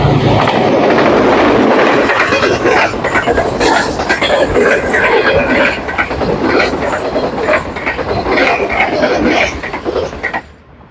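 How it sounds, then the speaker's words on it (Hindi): The Green Line 6 Down passenger train with luxury coaches passes through Mankiala railway station without stopping, a loud, close, continuous rumble of wheels and carriages that fades toward the end. "ग्रीन लाइन 6 डाउन का खूबसूरत थ्रू पास"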